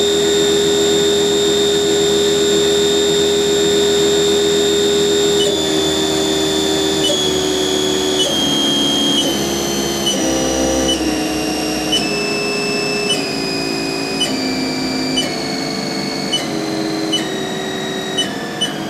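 A Haas Mini Mill vertical machining center spindle runs with a loud, steady mechanical whine whose pitch steps down in stages as the speed drops, without a break.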